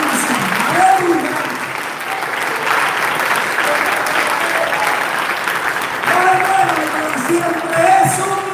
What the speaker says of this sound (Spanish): démosle un aplauso al Padre de la encarnación